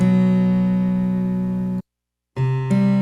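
A sustained plucked harpsichord tone, tuned to A440, rings steadily, breaks off into silence, then sounds again with a shift partway through, with no talking.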